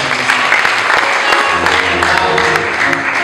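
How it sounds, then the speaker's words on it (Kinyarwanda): Dense applause from a church congregation at a Christmas and New Year gathering, a loud continuous patter of many hands that fills the whole stretch, with a voice faintly audible over the crowd. "dukomere Imana amashyi menshi"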